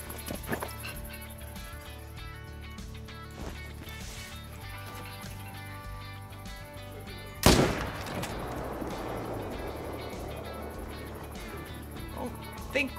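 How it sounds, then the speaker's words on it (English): A single sharp rifle shot at a 300-meter target while hunting in the Savanna reserve of Call of the Wild, a loud crack that rings out over quiet ambient wildlife sound and trails off. "I'm okay with taking a 300 meter shot."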